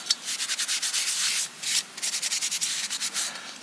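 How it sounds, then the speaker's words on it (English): A cloth rubs briskly over an old glass ship's light lens, 60 to 70 years old, to wipe off grease: a close, steady run of short rhythmic swishing strokes with brief pauses, alone. "Quick wipe over just to remove any grease."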